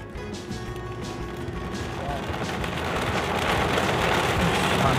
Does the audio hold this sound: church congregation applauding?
no